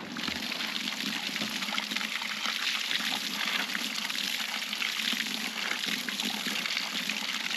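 Mountain spring water in the Swiss Alps runs in a steady, bright splashing trickle close by, continuous and even throughout with no voices.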